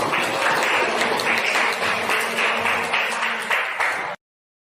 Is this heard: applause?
yes